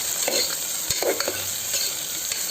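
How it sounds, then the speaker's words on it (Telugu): Sliced onions and chopped green chillies frying in oil for green gram sprouts kichadi, a steady close sizzle with a few scraping stirs of a spoon in the pan, no voices. "ఈ ఎర్రగడ్డలు బాగా దోరగా అయ్యేంత వరకు ఫ్రై చేసుకోవాలి"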